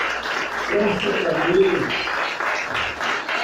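A church congregation claps during a sermon, a steady patter of applause running underneath a preacher's voice throughout.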